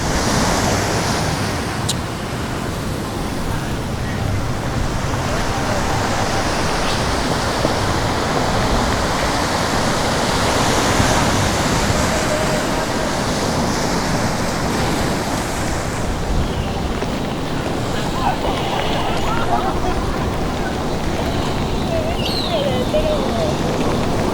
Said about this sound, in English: Endless water, the Pacific Ocean right here